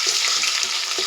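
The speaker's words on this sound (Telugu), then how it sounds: "ఈ పచ్చి వాసన పోయేంత వరకు కొంచెం వేయించుకుందాం." Ginger paste fries with light-browned onions in a pan, giving a bright, continuous hiss and sizzle with a few soft stirring scrapes, close and brief.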